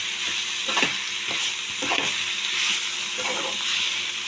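Radish fries in oil with lentil bori in a pan, giving a constant close sizzle broken by regular scraping strokes of a stirring spoon.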